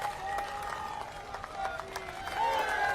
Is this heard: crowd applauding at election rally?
yes